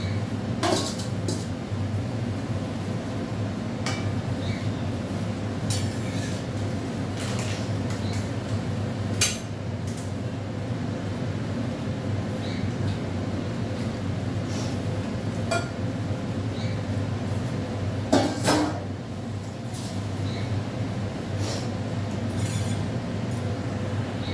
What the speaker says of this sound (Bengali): দেখো এখানে সকালে কিছুটা বাসন মাজা হয়ে গেছে, আর কটা বাসন আছে, এগুলো একটু মেজে নিই।